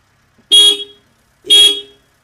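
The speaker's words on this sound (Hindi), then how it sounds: "हॉर्न बजाओ बस दो बार" Two short, loud horn honks from a Honda Amaze car, evenly spaced about a second apart, with silence between and around them.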